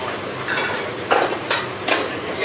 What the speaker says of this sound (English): Just a little bit of mushroom ketchup. Just going to let that reduce down.